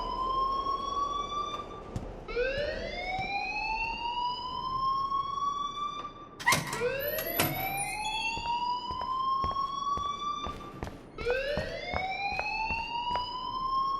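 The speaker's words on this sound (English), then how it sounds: "please turn off that alarm since that's your job" A fire alarm blares in the video game Life is Strange, repeating rising whooping tones in long cycles, loud and continuous, with a few sharp clicks and knocks.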